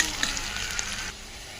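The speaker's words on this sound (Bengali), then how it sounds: "এই পেঁয়াজটাকে একটু লাল লাল করে ভেজে নেব" Onions sizzle steadily as they fry in hot oil for a Bengali prawn and eggplant dish. The sizzling is close and continuous, then drops to a softer fry near the end, with no talk.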